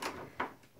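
A wooden door at the Mohonk hotel in New York opening onto another room: a few short knocks and creaks, then a sharper louder thud at the end, close by with no talking.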